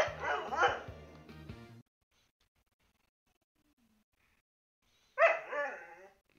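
A dog barks and yips in a quick close burst, falls silent for a few seconds, then lets out another short run of barks, loud and near with no talk over it.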